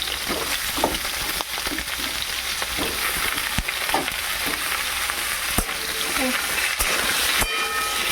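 Potato and papaya pieces fry in a pan under a loud, continuous sizzle, with occasional stirring scrapes and clicks through it and someone speaking faintly in the background.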